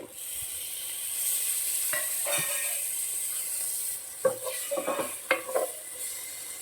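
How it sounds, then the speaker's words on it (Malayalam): Masala being roasted in a pan with finely chopped tomatoes for duck roast gives a steady sizzle, broken later by several sharp scrapes and clinks of a spoon stirring against the pan. "മസാലയൊക്കെ റോസ്റ്റ് ആയതിനു ശേഷം രണ്ട് തക്കാളി ചെറുതായി അരിഞ്ഞത് ചേർക്കാം"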